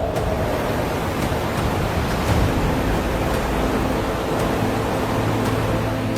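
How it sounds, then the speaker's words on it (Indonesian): Steady, loud roar of wind and rushing heavy rain, a dense unbroken wash of noise with faint gusting swells throughout. "angin kencang mulai bertiup. Hujan turun dengan deras disertai dengan petir yang menyambar."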